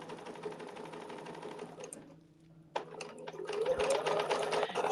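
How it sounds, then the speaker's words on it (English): A sewing machine stitches steadily with a fast mechanical whir, pauses briefly in near-silence, then starts again louder and busier toward the end. "sewing machines are used for more than quilting"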